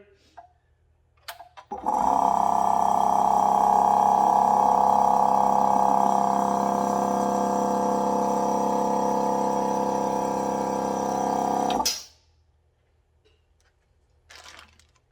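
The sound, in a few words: air compressor running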